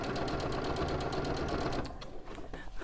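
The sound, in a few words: sewing machine stitching three layers of fabric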